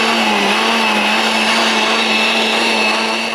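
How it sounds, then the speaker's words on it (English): A kitchen blender runs steadily on a batch of summer soup, a loud, constant whirring motor hum with no talk over it. "So I've blended this all."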